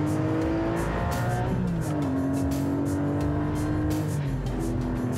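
A Porsche 718 GT4 or Spyder engine roars hard at full throttle, revs climbing steeply and dropping briefly at quick gear shifts before surging again, loud and close.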